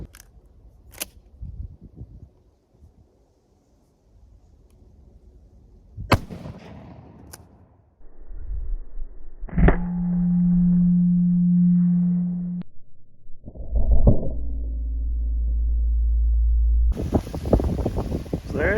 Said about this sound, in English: 3-inch Magnum double-aught buck versus a connecting rod out of the Mossberg Model 88.